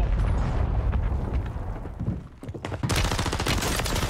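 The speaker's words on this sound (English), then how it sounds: "I'm not afraid of that mortar strike" Mortar strike explosions in the Warzone video game: a rapid, dense barrage of loud booming blasts and crackling gunfire, continuous throughout and intensifying into a bright, harsh volley near the end.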